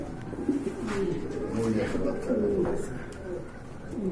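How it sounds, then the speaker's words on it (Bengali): A pair of big almond-coloured pigeons coo repeatedly in soft, rolling throaty phrases, close by and fairly steady, with faint background voices mixed in. "আর এখানে দেখতে পাচ্ছেন এক জোড়া শোকিং কবুতর রয়েছে"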